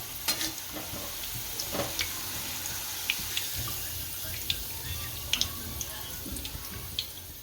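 Sev frying in hot oil for farali chevdo: a continuous soft sizzle with occasional sharp pops and scraping stirs, close and steady throughout without talk.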